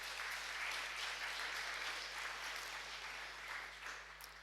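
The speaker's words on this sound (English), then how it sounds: "Big applaud for him, who made amazing work on getting this to work." Audience clapping at a NixCon 2019 conference talk, a steady patter of many hands heard fairly close, tapering slightly toward the end over a low electrical hum.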